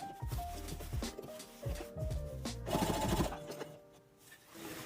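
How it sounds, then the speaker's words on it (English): Sewing machine top-stitching through three to four layers of pleated fabric on a tennis skirt, running in quick bursts of rapid mechanical stitching with short pauses and shifts in speed, close and clear. "make sure you're sewing through all 3 to 4 layers of fabric"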